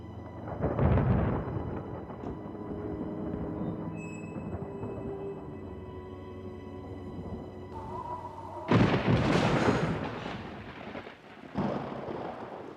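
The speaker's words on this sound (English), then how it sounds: "Looks like this storm will last the night." A night thunderstorm rumbles with rolling thunder over steady rain, swelling to a loud, close crack and boom partway through before settling back into a low rumble; no one speaks.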